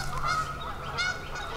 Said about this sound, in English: there is a goose battle going on out here